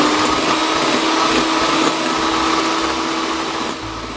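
An electric mixer whirs steadily while beating egg whites with sugar, a loud continuous motor buzz with a faint rhythmic churn, easing slightly toward the end.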